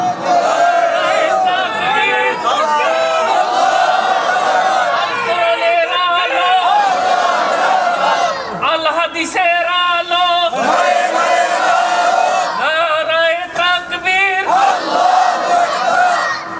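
A large crowd at a Bengali religious gathering shouts slogans together with raised hands, a loud sustained roar of many voices that rises and falls in waves for over fifteen seconds.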